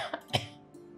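Coughing in a Gujarati family drama scene: two short, close coughs, the second louder, then near quiet with no speech.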